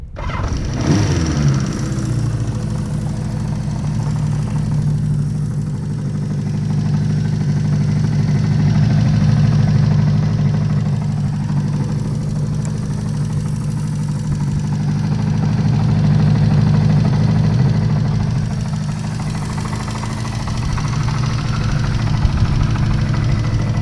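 A 1975 Honda CB550K motorcycle engine idles steadily and close by, a continuous low mechanical throb with a slightly knocking texture that swells and eases a little over the whole stretch, with no talking.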